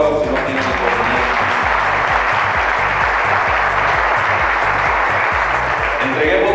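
A large audience at a Nueva Alianza political planning meeting in Casimiro Castillo applauds steadily and loudly for the whole stretch, with dense sustained clapping and a hint of voices underneath.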